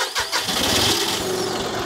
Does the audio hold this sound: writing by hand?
no